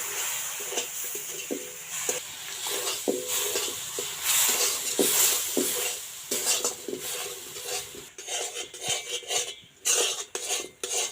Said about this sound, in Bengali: এটা কিন্তু ভালোভাবে এইভাবে নাড়িয়ে নিতে লাগবে